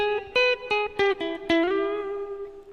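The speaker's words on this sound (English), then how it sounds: "Sort of a room reverb almost." Electric guitar notes plucked in a short phrase through a Catalinbread effects pedal, each ringing out with a small-room reverb tail that fades after the final held note.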